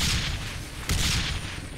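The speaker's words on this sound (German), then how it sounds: "Hubschrauber abgestürzt, wiederhole, wir haben den Hubschrauber verloren" A helicopter goes down in the shooter game Terrorist Takedown 2, a heavy rumbling crash with a broad noisy roar and a sudden impact burst midway, loud and close.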